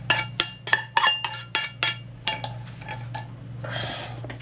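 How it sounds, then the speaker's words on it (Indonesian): Fried instant noodles are poured from a pan into a bowl, with a run of sharp metallic clinks and clatters of utensil against cookware, followed by a softer, sliding rustle at the end. "kita tuangkan ke mangkok."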